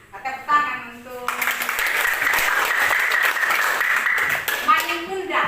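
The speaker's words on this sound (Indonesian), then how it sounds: "Tepuk tangan untuk" Classroom applause from a group of students, a broadband burst of clapping that rises after a brief spoken lead-in and runs steadily for several seconds before fading as talk resumes.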